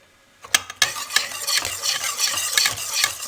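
Flour being mixed into fruit cake batter in a bowl, with a couple of sharp clinks followed by continuous scraping, stirring strokes close by.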